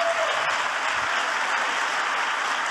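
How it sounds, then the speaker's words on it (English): A conference audience claps steadily for a few seconds, a dense, even burst of applause with no voices on top. "Can we just have a quick round of applause for the kind maintainers?"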